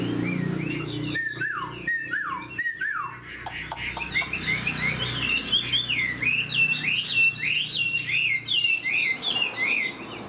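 A large-bodied hwamei songbird sings close by, opening with a few clear descending whistles, then breaking into a rapid, varied, warbling run of tweets and trills. A low hum sits underneath at the start, and no one speaks.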